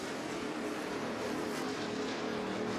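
NASCAR race cars at Talladega in the 2011 Aaron's 312 create a dense, continuous engine roar as the pack picks up speed after a green flag, loud and unbroken throughout.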